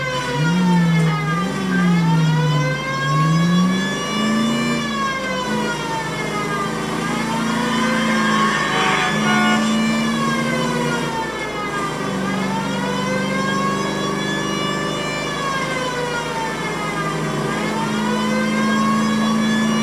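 A 1940s police car in L.A. Noire wails its siren in long rising and falling sweeps, loud and continuous over a steady engine drone while driving.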